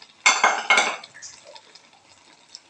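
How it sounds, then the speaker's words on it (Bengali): Utensil clanks against a pan twice in quick succession while stirring hilsa roe curry after coriander leaves are scattered in, followed by faint softer scraping and small clinks. "ধনিয়া পাতাগুলো ছিটিয়ে দিয়ে দিচ্ছে, দিয়ে একটু নাড়াচাড়া করে দিতে হবে"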